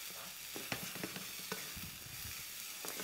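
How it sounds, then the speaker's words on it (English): A chunk of butter stirred into a hot pan, melting and sizzling with a steady frying hiss broken by several scraping stirs, close and moderately loud. "Give that a stir."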